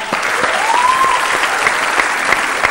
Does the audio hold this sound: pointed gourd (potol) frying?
no